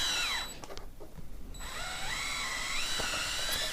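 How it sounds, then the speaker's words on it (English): A power drill whines steadily as it drives an LDF coax cable stripping tool, briefly pausing then resuming with rising and falling motor pitch, close and loud with no talk. "And then I'll take my drill and fully seat it in till it stops."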